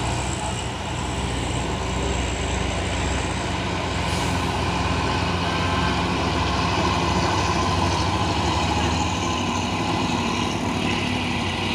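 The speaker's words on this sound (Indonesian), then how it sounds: "itu ada dump truck busuk" A heavy dump truck's diesel engine rumbles steadily and close by on a road in Indonesia, with a low continuous drone and no voices over it.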